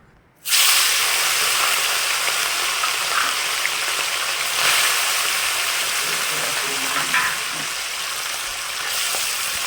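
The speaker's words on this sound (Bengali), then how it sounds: "অল্প অল্প করে মাছগুলো আগে ভেজে নিচ্ছি" Morola fish frying in mustard oil in a wok, a loud, constant sizzle and hiss starting abruptly and holding steady nearby, with faint clinks of stirring and no talk.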